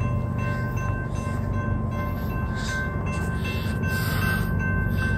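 A train rumbles steadily past nearby, a continuous heavy low roar with faint high squeals and tones above it, no voices.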